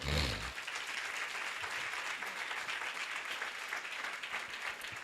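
A church congregation applauds at a Sunday service, steady dense clapping that fills the room from start to finish, with a brief low rumble at the very beginning.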